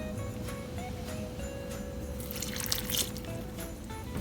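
Water poured into a pot of fruit cake mixture with spices, orange zest and juice, a soft steady trickle over a low constant hum of background noise, with a brief brighter splash near the end.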